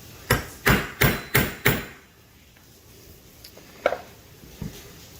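Hammer striking a steel stamp into a bronze survey marker: five quick, sharp, evenly spaced metallic taps up close, then quiet with two lighter isolated knocks.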